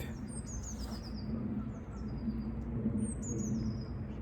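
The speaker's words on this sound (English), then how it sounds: "Can you hear the birds singing?" Birds chirp and trill in short high bursts over a steady low hum, fairly faint and a little distant, with no voices.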